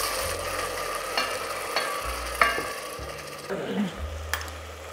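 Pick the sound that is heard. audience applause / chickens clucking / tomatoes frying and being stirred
tomatoes frying and being stirred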